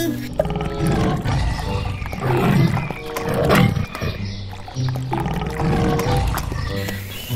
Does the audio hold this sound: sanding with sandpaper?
no